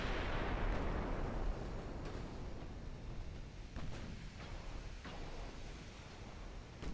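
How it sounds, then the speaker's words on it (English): Naval guns fire high-explosive shells at a light cruiser in a World War II naval battle game, heavy booming rumble with a few distinct sharp shots spread across a continuous roar of battle noise. "Let's fire HE at that light cruiser"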